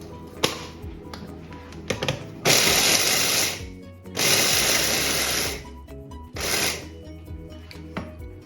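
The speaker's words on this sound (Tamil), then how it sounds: "இதே மாதிரி இந்த வேர்க்கடலையும் போட்டு கொஞ்சம் அடிப்போம்." A kitchen mixer grinder grinds peanuts for dates laddu in short loud bursts, three main runs of harsh whirring separated by pauses and small clatters of the jar.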